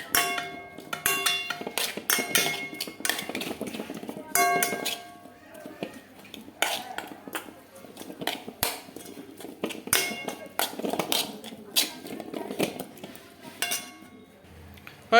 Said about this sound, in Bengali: এটাকে আমি এখন মিক্স করে দিই হলুদটার সাথে চামচ দিয়ে